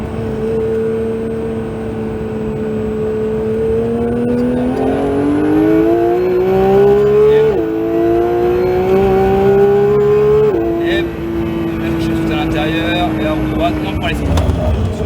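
Porsche 911 GT3 (992) accelerating flat out on a track, engine note rising steadily through the gears with sharp shift drops, loud and close from the cabin, under an instructor's talk.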